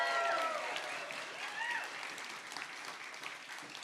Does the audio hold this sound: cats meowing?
no